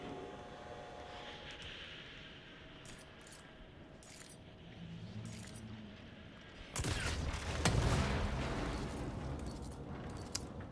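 Gunfire in the game Control: Foundation, a sudden loud burst of shots and impacts near the end after a quieter stretch of ambient hum and scattered clicks.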